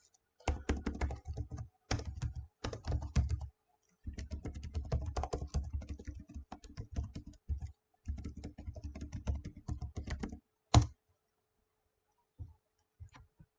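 Rapid typing on a computer keyboard in clustered bursts of crisp clicks with short pauses, ending with a sharp keystroke and a few scattered taps in near silence.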